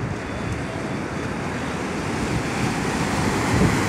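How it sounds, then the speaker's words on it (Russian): Sea waves break steadily on a beach in Da Nang in early January, a continuous broadband surf wash with wind rumble on the microphone, swelling slightly louder toward the end, with no voices. "О, какая волна."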